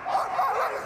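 A three-year-old Border Collie barks during a Crufts agility run in an indoor arena: a short, loud, high-pitched yelping bark lasting under a second, close and clear.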